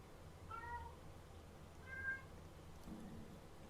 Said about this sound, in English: I apologize if you can hear my cat Bella.